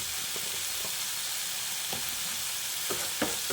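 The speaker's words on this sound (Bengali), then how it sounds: "তারপর আবারও ভালো করে মিশিয়ে নিচ্ছি।" Ridge gourd curry with spices stirred in a hot pan, a steady loud sizzle and fry with intermittent scraping strokes of a spoon against the pan, no voices.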